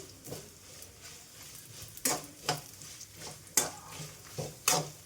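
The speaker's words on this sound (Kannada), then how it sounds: "ಇಲ್ಲೇ ನಾನು ಎಲ್ಲ ಹುರ್ಕೊಂಡು ಹಾಕ್ತೀನಿ" Spices frying and being stirred in a pan for tomato bath, a steady soft sizzle broken by repeated scraping strokes of a spoon against the metal, close and clear.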